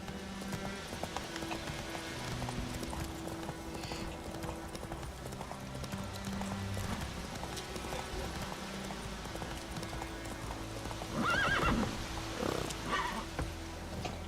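Geralt's horse Roach galloping in The Witcher 3 video game, a steady run of clip-clop hoofbeats under a continuous game ambience, with a brief louder rustle near the end and no talk.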